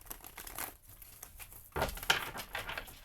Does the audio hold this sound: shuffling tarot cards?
yes